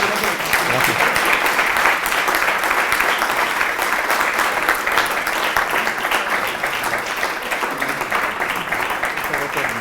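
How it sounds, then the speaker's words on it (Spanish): An audience applauds a speaker after a talk, sustained loud even clapping lasting throughout, with a brief spoken word heard over it. "un aplauso para nuestro ponente"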